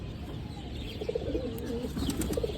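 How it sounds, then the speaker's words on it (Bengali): Pigeons cooing in a loft, soft low repeated coos at close range over a steady background hum, with no talking. "নয় নম্বর পর পড়ছে এই কবুতরটা"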